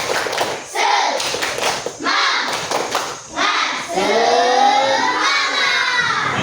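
Fifth-grade schoolchildren in a classroom clap in a counted rhythmic pattern, sharp bursts of many hands separated by brief pauses, with children's voices chanting and shouting along loudly.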